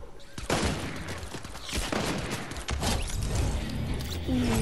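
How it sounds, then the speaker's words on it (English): Silenced pistol firing in Fortnite, a rapid series of muffled shots and mechanical clicks across the clip amid game noise, with a voice briefly talking. "Silent pistol."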